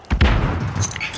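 A stun grenade goes off in the video game Warzone as a single muffled, booming burst. It rolls out for about a second and then fades.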